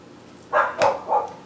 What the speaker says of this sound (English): I'm sorry if you guys hear the dog barking.